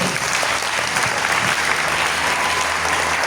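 A church audience at a faith seminar applauds to acclaim the Lord, with dense, continuous clapping filling the space and a faint hum of voices beneath.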